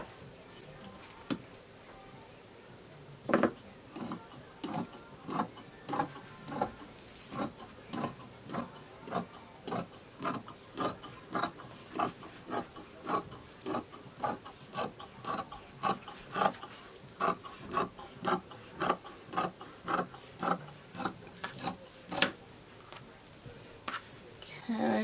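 Scissors cut through fabric along a pinned line, a steady series of close, crisp snips in a regular rhythm, with faint rustling between them.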